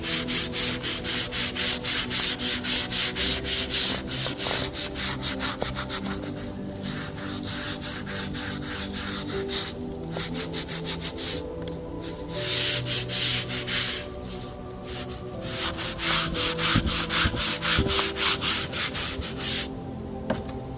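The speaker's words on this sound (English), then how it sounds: "usually it doesn't come clean your first couple minutes of scrubbing on it." A porous headstone gets scrubbed with D2 cleaner, a loud close rasping scrub repeating in fast back-and-forth strokes almost without pause, with no voices.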